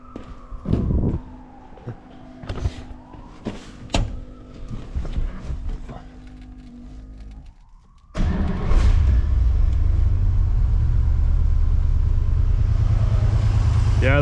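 A 1964 Oldsmobile 98 engine settles into a steady, loud idle rumble after several seconds of clanking and muffled handling noises, running continuously close by.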